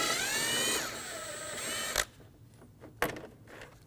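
Removing air dam bolts with a 10mm socket on a 2019-2025 Ram 2500 6.7L, a sustained whirring spin of a power driver followed by a couple of sharp clicks and knocks, close by.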